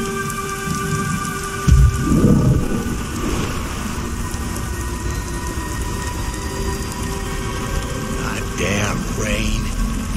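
Steady rain with rumbling thunder in the video game Beyond: Two Souls, a constant wet hiss under a deep low roll, with a brief louder burst early on and a voice speaking near the end.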